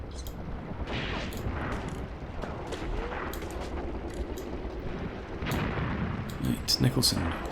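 Gunfire and distant artillery booms rumble through a World War II tank battle at Longstop Hill in the video game Tank Warfare: Tunisia 1943, with scattered shots and explosions under someone talking over the radio.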